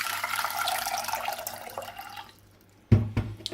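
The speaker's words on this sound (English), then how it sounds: "So let's pour some filtered water into the pot." Filtered water being poured into a cooking pot for herbal tea, a splashing stream that gradually thins and stops, followed by a few sharp metallic clunks of the pot, close and quiet with no talking.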